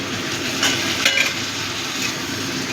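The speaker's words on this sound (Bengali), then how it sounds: "একটু গরম জল দিয়ে দিচ্ছি।" Liquid sizzling and bubbling in a hot pan as hot water goes into a fish curry masala with Kashmiri chili powder, with a few stirring scrapes and clinks, steady and close throughout.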